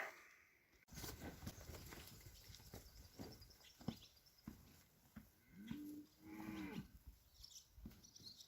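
Cows mooing on a farm during loading, a few low, drawn-out calls at moderate distance amid clattering and shuffling noises, with no talk.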